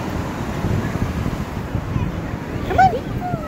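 Ocean waves wash at a beach, a steady rough rush mixed with wind buffeting the microphone, with a brief faint voice near the end.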